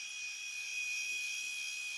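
A split-end remover hair trimming machine runs with a steady, high-pitched electric whine, close and continuous, with no talking.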